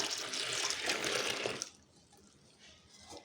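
Water poured into a container to dilute a liquid, a bright rushing splash for about a second and a half that then drops to a quieter trickle and settles, close by with no voices.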